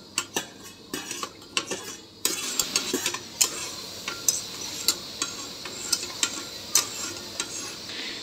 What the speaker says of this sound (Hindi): इसमें मैं डाल करके फिर अच्छी तरह से इसको मिक्स करेंगे, फिर इसको अच्छे से फ्राई करना है।